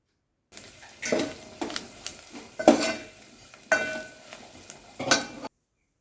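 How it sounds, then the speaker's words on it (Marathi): Cut green chillies are stirred in hot oil in a pan for lime-chilli pickle: a light sizzle runs under five or six sharp scraping, clinking strokes of a spoon against metal, close and fairly loud, with nobody speaking. "त्या मिरच्या फक्त दोन मिनटं हलवून घ्यायच्या त्या आपल्याला पूर्ण अशा तेलामध्ये तळायच्या नाही आहेत"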